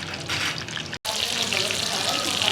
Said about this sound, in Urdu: یہ فرائی ہو گئی سبز مرچیں بھی ساتھ میں اس طرح سے